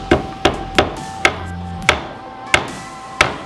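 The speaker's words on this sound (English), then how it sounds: "I put one of my homemade staples here, hammer it in" Seven sharp hammer blows driving a homemade metal staple into a wooden baseball bat, spaced unevenly with short pauses between, close and clear with no talking.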